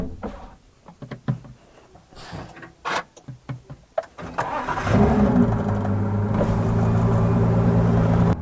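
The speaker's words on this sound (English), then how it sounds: "So we're inside the GT here with the engine running." A 2017 Ford GT supercar engine cranks and fires after a few scattered clicks and knocks, then settles into a loud, steady, rumbling idle heard close up from inside the cabin.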